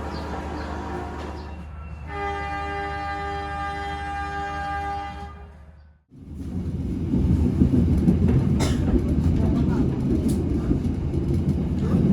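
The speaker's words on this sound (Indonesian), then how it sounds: "Memang kereta andalan Daob 9 dan salah satu kereta api yang ke Malang, dari Banyuwangi ke Malang." The KA Tawang Alun passenger train on the Banyuwangi to Malang line, with a sustained horn blast, a brief dropout, then a loud steady rumble of wheels on rails from onboard.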